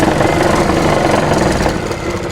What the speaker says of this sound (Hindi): यहाँ पर लगाते हैं हम सिलाई